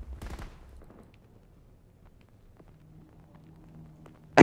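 A quick burst of rapid gunfire crackles in a Battlefield 2042 match during a helicopter fight, loud for half a second and then fading into near silence.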